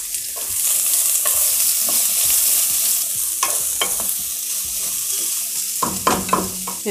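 Finely chopped large onion, green chillies and ginger sauté in a hot pan, a steady sizzle broken by the clink and scrape of a spoon stirring, with sharper scraping bursts near the end and no talking.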